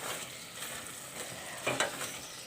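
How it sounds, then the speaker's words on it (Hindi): Mash dal with green chilli and ginger fries on high heat, giving a continuous close sizzle with stirring scrapes and a brief louder rattle partway through. "इसे मैं मज़ीद 2 से 3 मिनट तेज़ आंच पे मैं भूनूँगी।"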